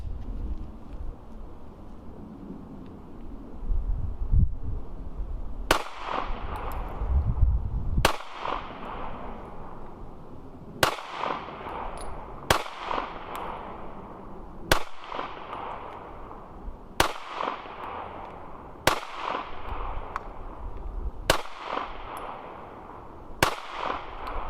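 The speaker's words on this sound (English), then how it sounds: "let's get a couple more rounds down range and see how this runs" A Taurus G3C pistol is fired at a gun range: about nine sharp, loud shots spaced a few seconds apart, each ringing out briefly over quiet range ambience.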